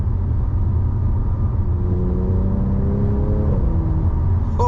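An Audi S4 fitted with a gearbox mount insert drives with the windows slightly open, its engine rumbling steadily and loudly while rising whine tones step through gear shifts, with no voices.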